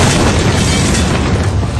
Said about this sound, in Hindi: भीकू चौक पर शकील गुड्स ट्रांसपोर्ट के बाहर अचानक जोरदार धमाका हुआ